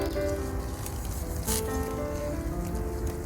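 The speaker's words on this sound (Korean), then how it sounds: "그래서 오늘 좀 여기는 저기 비가 오네요" Steady rain falls outdoors near a garden plot of garlic chives, a continuous soft patter with faint rustling, moderately loud and without talk.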